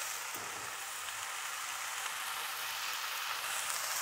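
Soft, steady sizzling of sauerkraut frying in a pan, a continuous hiss with no talking.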